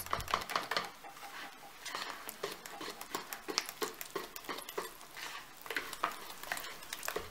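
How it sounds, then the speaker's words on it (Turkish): Dough being mixed with a wire whisk for poğaça buns: a fast, even run of soft rhythmic slaps and scrapes against the bowl, close and fairly quiet, with no voices. "Hamurumuzun ilk etapta yarısını ilave edip çırpma teliyle karıştırmaya devam ediyoruz"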